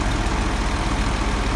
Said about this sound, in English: Tractor handles the grain cart pretty well.